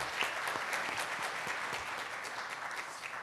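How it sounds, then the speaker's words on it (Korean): A church congregation claps for a newlywed couple seated in the second-floor balcony, producing soft, scattered applause with distinct individual claps throughout. "한번 박수해 주세요."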